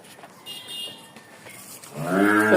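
Cattle, including Holstein Friesian heifers, stand in a dairy farm shed with a low murmur of farm background, and an animal lets out a deep, rising moo close by at the end.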